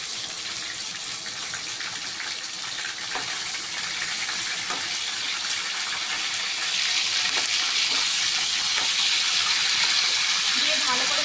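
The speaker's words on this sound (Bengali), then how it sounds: "দিয়ে ভালো করে নাড়তে হবে।" Chicken keema sizzling in a pan with sour yogurt as it is stirred: a constant bright frying hiss with soft scraping stir strokes, close and loud, growing slightly busier toward the end.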